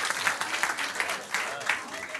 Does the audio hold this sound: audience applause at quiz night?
yes